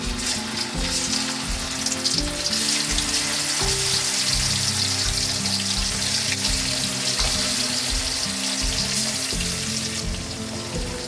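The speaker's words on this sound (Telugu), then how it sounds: "మీడియం ఫ్లేమ్ మీద ఈ చేపల్ని కలుపుకుంటూ ఫ్రై చేసుకోవాలి" Small fish frying in hot oil in a kadai over medium flame make a loud, dense, continuous sizzle and crackle, close and steady throughout with no talking.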